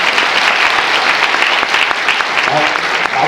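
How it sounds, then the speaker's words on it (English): Conference audience applauding a growth hacking and marketing panel, a loud sustained round of clapping from a crowd, close and steady throughout. "let's have a big round of applause for everyone"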